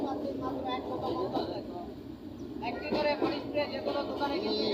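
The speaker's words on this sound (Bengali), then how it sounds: "আমি এখন ট্রেনের ভিতরে জানেন" A train running, heard from inside the carriage: a continuous low rumble beneath near, ongoing talk.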